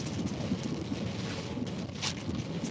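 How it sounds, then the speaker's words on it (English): A storm roars with wind and driving rain in a dense, steady wash of noise. It stays constant and fairly loud throughout, with no voices over it. "We're not even in the severe part of the storm yet."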